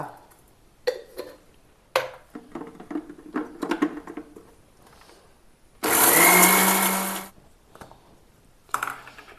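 A kitchen grinder crushes coconut, shallots, curry leaves and fennel in one loud whir of about a second and a half. Scattered clinks and taps from handling the jar come before and after it.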